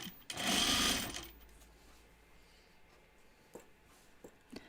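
A sewing machine stitches through three layers of anorak fabric in a short, fast burst of whirring, followed by quiet pauses with faint clicks and handling noises nearby.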